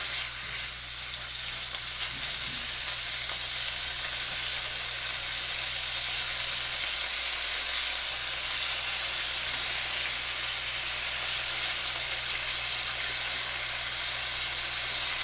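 Thai pepper steak sizzling steadily as it fries in a pan, a dense, even, close-up frying hiss continuing without pause, with a low hum underneath.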